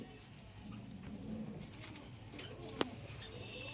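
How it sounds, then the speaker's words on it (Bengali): Short-sized Madrasi flying pigeons giving soft, low cooing near and quiet, alongside faint background noise and a single sharp click. "একদম শর্ট সাইজের পায়রা,"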